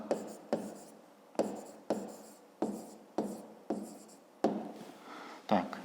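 A pen writes an answer on paper in a math exercise, giving repeated scratchy strokes in bursts about every half second, close and quiet, with no talking.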